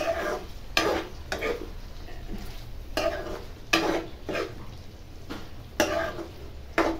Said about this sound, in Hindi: अब सारे मसालों को अच्छी तरह से इसमें मिक्स कर देंगे।